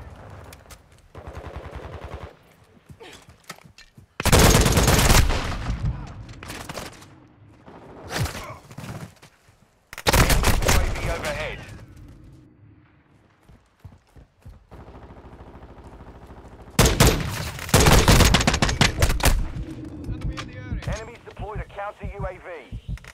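Bursts of gunfire ring out in Call of Duty: Modern Warfare II, with loud volleys at intervals broken by quieter gaps of game ambience and callouts, voices speaking between the shots.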